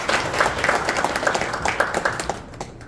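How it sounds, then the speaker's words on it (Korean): Audience applause at a Daejeon arts and culture groups' meeting hall, steady dense clapping from a crowd that holds for a few seconds, then thins and fades out near the end. "모두 서로 박수 부탁드리겠습니다"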